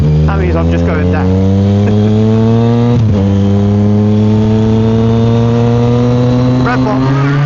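A Yamaha MT-09 motorcycle with a loud exhaust drones steadily nearby, its engine note climbing as it accelerates through a gear change, with someone talking over the rumble.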